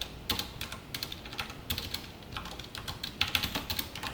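Typing on a computer keyboard during a JavaScript lesson, with quick, irregular clusters of light key clicks heard close up and fairly soft, with no talking.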